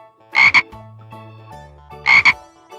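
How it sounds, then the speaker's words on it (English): Two loud, close bursts of frog croaking a couple of seconds apart, each a rapid double pulse, with low faint tones in between. "I was thinking of frogs."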